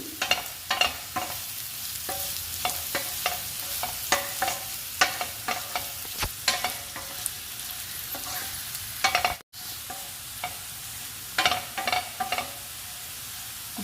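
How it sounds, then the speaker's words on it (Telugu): Potato pieces fry in oil in a pan with garlic chili spice, giving a steady close sizzle broken by frequent sharp spatula scrapes and clacks as they are stirred, with no talking. "బంగాళదుంప ఫార్టీ ఫైవ్ పర్సెంట్ ఫ్రై అవ్వాలండి"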